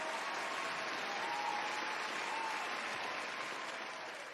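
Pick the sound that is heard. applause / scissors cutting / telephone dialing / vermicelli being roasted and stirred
applause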